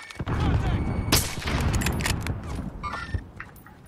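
Gunfire in Call of Duty Warzone, a clutter of sharp shots and impacts with rumbling booms over steady game noise, loud and close over several seconds.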